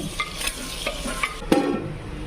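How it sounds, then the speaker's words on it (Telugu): Tomato chutney with garlic and turmeric is stirred in a clay pot over village-style cooking, making close, brisk scraping strokes over a low sizzle, with one louder knock near the middle and no voices. "ఇది కుండ కదా, జాగ్రత్త కలపాలండి"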